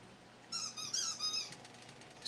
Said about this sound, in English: Squeaky ball time.